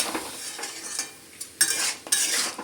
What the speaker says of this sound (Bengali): এবার খুব ভালো করে নেড়ে চেড়ে দেবো।